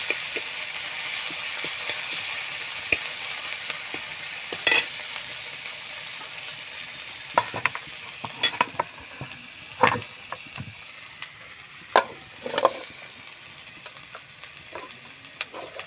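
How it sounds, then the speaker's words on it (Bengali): Onion, garlic, green chilli, mustard seeds and nigella seeds frying in a pan while being stirred, a steady sizzle punctuated by sharp spatula scrapes and clacks that grow more frequent in the second half, close up with no talking. "পেঁয়াজ রসুন কাঁচা লঙ্কা সর্ষে কালো জিরা দিয়ে দিচ্ছি ভালো করে নেড়ে দিচ্ছি"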